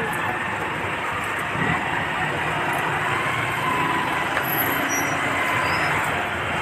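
Continuous road traffic outside a church in Jaro: a dense, steady rumble of passing vehicles at moderate level, with no talk.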